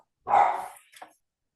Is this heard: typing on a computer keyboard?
no